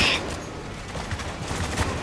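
Enemy shotgun fire in the Spec Ops: The Line video game, a steady clatter of close, rough blasts and mechanical noise running through the whole short stretch.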